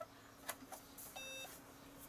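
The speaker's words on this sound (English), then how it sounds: "There's a beep, which is good." A short electronic beep from an Acorn Electron computer powering on, a steady tone lasting about a third of a second, heard faintly over quiet room hiss.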